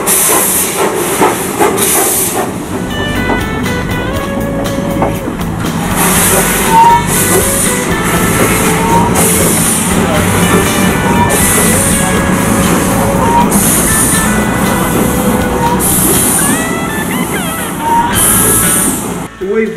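The restored steam locomotive NF5 chuffs with rhythmic bursts of hissing steam, loud and close, with mechanical clanking and voices underneath.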